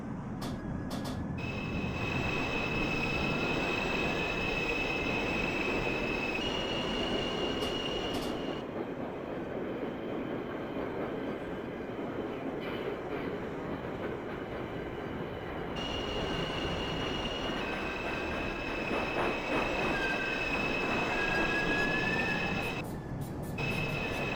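A New York subway 1 train in a train simulator game rumbles steadily along the track, with wheel squeal and high metallic whines rising and falling over continuous low roar.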